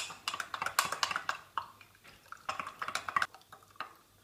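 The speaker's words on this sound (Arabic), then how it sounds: "نحركهم مزيان" Sugar and yeast being stirred together in a bowl while preparing pizza dough, producing a run of light scraping and clinking taps from the utensil against the bowl, irregular and close, with no talking.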